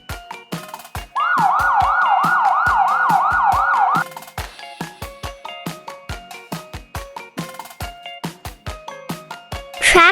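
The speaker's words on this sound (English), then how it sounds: "Police car." Police car siren, a loud wailing tone that sweeps up and down rapidly for about three seconds over a rhythmic musical backing, starting and stopping abruptly.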